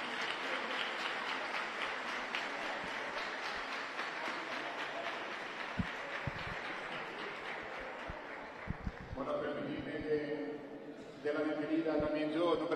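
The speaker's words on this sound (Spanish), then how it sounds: "Unas palmas para la Virgen." A crowd at a Romería pilgrimage claps for the Virgin, steady massed applause with a few sharper individual claps and voices rising near the end.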